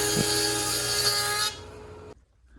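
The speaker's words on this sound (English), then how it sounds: "The next day here, we put them through the planer." A loud wood planer roars with a steady high whine while planing walnut boards, then winds down and cuts off, leaving near silence.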